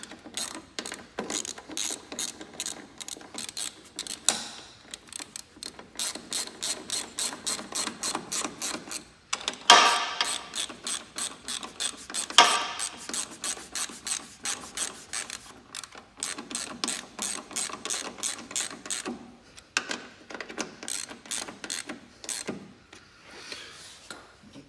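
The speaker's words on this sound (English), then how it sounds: "Let's get our bolts tightened up." A hand ratchet tightening bolts on a Bobcat fuel filter, giving long runs of rapid, close clicking strokes with brief pauses between bolts.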